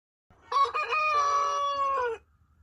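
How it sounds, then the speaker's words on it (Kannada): A cartoon hen in a Kannada moral-story animation about a hen laying golden eggs gives one sustained, loud, tonal cluck-crow lasting under two seconds, with a choppy start, heard alone. "ನಮ್ಮ ಕೋಳಿ ತತ್ತಿ ಇಟ್ಬಿಟ್ಟೈತಿ"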